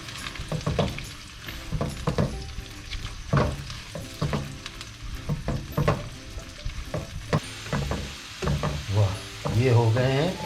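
Sliced onions and whole spices such as cloves fry to golden brown in a pot of oil, a steady close sizzle broken by repeated scraping stirs, with a louder bubbling burst near the end.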